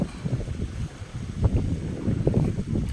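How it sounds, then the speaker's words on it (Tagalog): Strong wind buffeting the microphone under a kamachile tree at a hilltop campsite, a steady low rumbling roar with gusty swells throughout. "sarap tumambay dito dahil malakas yung hangin yan"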